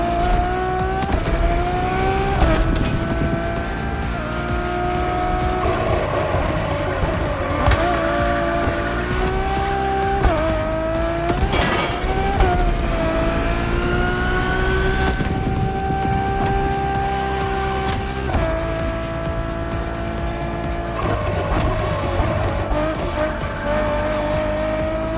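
A Ferrari road-legal supercar with a Formula One-inspired design, driven in The Crew Motorfest on PS5 Pro, its engine wailing loud and continuous with rising revs, abrupt gear-shift drops and tire squeal.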